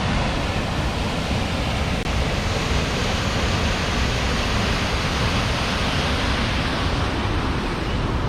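Waterfall at Johnston Canyon in Banff National Park, a dense, constant roar of falling water heard close and loud without a break, with no voices over it.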